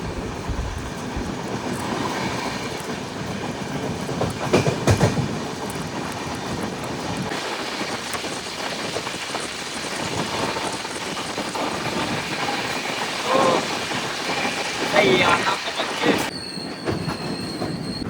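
Tirupati–Visakhapatnam double decker express 22708 running through thick fog, with a steady rumble of rail wagons and wheels, occasional squealing and clatter, and louder passing bursts near the end; no talking.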